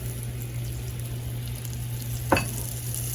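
Oil heating in a hot frying pan on a kitchen stove, a steady soft sizzle under a low hum, broken by one brief clink near the end.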